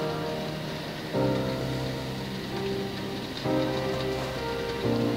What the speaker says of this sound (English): it's raining, I don't know if you can hear that by the way